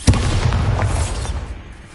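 A Bombarda spell explosion in the game Hogwarts Legacy opens with a sharp, loud boom, followed by a rumbling, crackling tail that gradually fades away.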